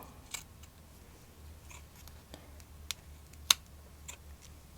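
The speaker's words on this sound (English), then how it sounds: "And I'm going to cut this stabilizer out too." Scissors cutting stabilizer away from a cloth doll hand, a handful of faint, sharp snips spaced irregularly over a quiet background, close by with no talking.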